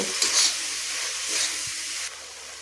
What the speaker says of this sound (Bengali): হলুদের গুঁড়ো দিয়ে মশলাটাকে আমি ভালো করে আবার ভেজে নেব